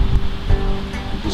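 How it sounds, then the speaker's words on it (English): Heavy wind buffets an outdoor microphone with a loud, continuous low rumble and roar that swells and dips, dominating the whole short stretch. "I apologize if there's a lot of wind noise."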